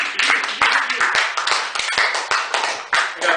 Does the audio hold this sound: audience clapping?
yes